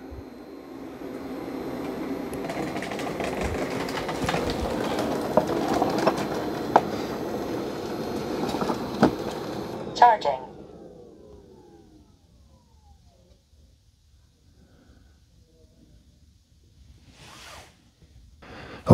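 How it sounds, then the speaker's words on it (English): Roborock Q5+ robot vacuum auto-emptying at its charging dock: a loud, steady whooshing suction roar for about ten seconds that stops abruptly, followed by near silence and a brief faint rustle. "we're going to see how loud it's going to auto empty when it docks"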